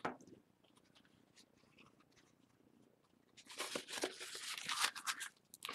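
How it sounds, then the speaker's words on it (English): Stiff dress canvas fabric crunched by hand to soften it, quiet scattered crinkles at first, then louder dense rustling and crackling bursts near the end. "I'm just crunching it to get it a bit softer because it's quite hard as it is."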